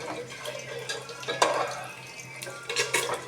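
Fried eggs are scooped from a pan into a bowl for egg curry, giving a few close metallic scrapes and clinks over a faint hiss from the stove.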